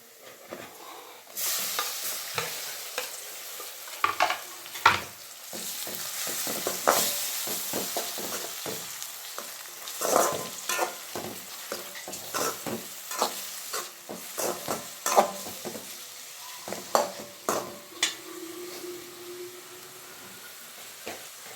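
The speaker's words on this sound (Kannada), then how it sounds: "ಈರುಳ್ಳಿ ಚೆನ್ನಾಗೆ ಫ್ರೈ ಆಗಿದೆ ನೋಡಿ ಈರುಳ್ಳಿ ಬಣ್ಣನೂ ಚೇಂಜ್ ಆಗಿದೆ ಈಗ ಒಂದು ಸಣ್ಣ ಟೊಮೆಟೊನ ಕಟ್ ಮಾಡಿ ಎತ್ತಿಟ್ಕೊಂಡಿದ್ದೀನಿ ಅದನ್ನು ಹಾಕ್ತಿದ್ದೀನಿ" Onion and chopped tomato frying in a pan for egg pasta masala: continuous sizzling broken by frequent scraping and stirring strokes of a spoon against the pan, close and fairly loud, with no voices.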